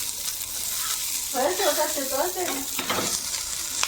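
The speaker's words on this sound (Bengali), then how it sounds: "উচ্ছে ভাজাটা একটু নাড়িয়ে দাও তো" Fried bitter gourd sizzles in an oiled pan as it is stirred, a close, steady hiss with scraping strokes, while a voice speaks briefly over the frying.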